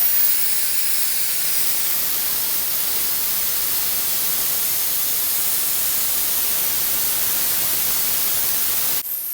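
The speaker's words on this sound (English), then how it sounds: "So I hear that air rush right out." Compressed air rushes out of an FX Panthera air rifle as its air is released, a loud, steady hiss lasting several seconds before it cuts off abruptly.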